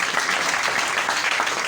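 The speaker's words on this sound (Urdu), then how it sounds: "آئیں زوردار تالیاں بجائیں خداوند کے لیے،" Church congregation clapping hard together, a steady, loud wash of applause filling the room with little else heard.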